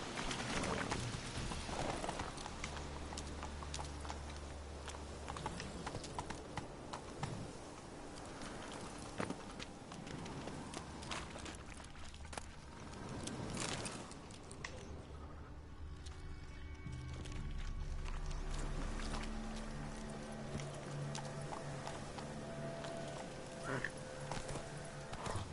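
Horse hoofbeats galloping in the video game The Witcher 3, a dense continuous drumming of hooves over a loud game soundscape, with a voice also present at times.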